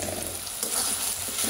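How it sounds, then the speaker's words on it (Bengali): Onions frying in oil with whole spices such as cinnamon, cardamom, pepper, cloves and bay leaf, a dense steady sizzle with a brief stirring scrape partway through, close and even. "ভালো করে পেঁয়াজটা ভেজে নেব।"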